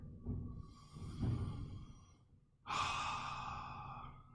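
Slow meditative breathing in a quiet room: a long audible inhale followed by a longer, airy, relaxed exhale, close and soft.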